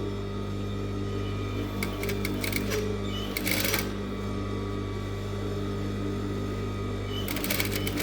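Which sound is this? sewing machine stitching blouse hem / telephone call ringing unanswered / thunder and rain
sewing machine stitching blouse hem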